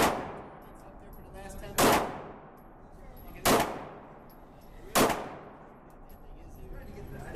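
Three sharp Canik Shark C pistol shots ring out at a range, spaced about one and a half seconds apart, each loud crack trailing into a decaying echo, with faint background noise between.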